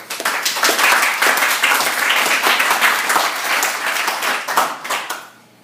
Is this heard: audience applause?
yes